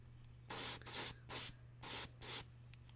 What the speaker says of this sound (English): Little airbrush prime.